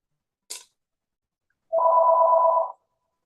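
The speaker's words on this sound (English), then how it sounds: "The phone keeps ringing." A short click, then a single electronic telephone ring tone lasting about a second against silence.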